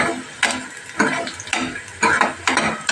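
Badiyan (sun-dried lentil nuggets) fry with onions in a pan, stirred in regular scraping bursts about every half second over a low, steady sizzle.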